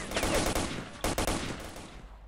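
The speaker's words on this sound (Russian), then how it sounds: "Пару выстрелов по мне и все уже," Gunfire in the shooter game S.T.A.L.K.E.R.: Lost Alpha, a rapid burst of loud shots followed by a couple of sharp single cracks, with no talking.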